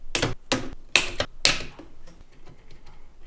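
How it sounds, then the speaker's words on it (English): Four sharp, crisp snips in quick succession, close up, followed by quiet shuffling. "I know I should have clippers, but I don't, so I'll be using scissors."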